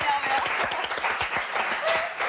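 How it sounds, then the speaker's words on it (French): A TV studio audience claps steadily in a brief, even burst of applause, with a voice briefly audible over it. "C'est des applaudissements à la hauteur de mon énervement."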